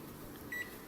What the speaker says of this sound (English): normal users will just go mad when they have to deal with this beeping